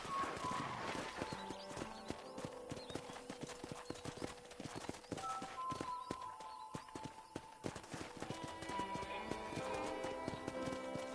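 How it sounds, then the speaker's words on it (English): Rhythmic clip-clop of horse hooves at a steady walking pace in the video game Red Dead Redemption, with faint tonal music notes rising and fading in the background. "let's see if you can still ride a horse."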